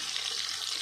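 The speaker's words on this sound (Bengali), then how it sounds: "বন্ধুরা, আমার রাইসটা হয়ে গেছে, আমি এবার চিকেনগুলো ফ্রাই করি। এখানে তেলটাও গরম হয়ে গেছে।" Marinated chicken pieces sizzling in hot oil in a pan, a steady dense hiss and crackle that holds evenly throughout, close and moderately loud, with no voices.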